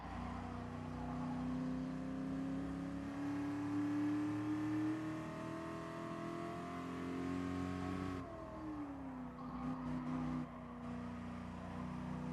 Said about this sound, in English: because I am driving a GT40